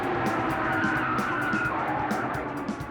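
A police Evo patrol car launches hard from a standing start, its tires briefly skidding and squealing under a rising engine roar, with some faint voices mixed in.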